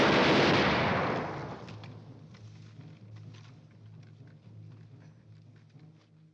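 A volley of film gunfire erupts loud and close with a heavy, booming blast, then rolls away into a long fading rumble and scattered crackles.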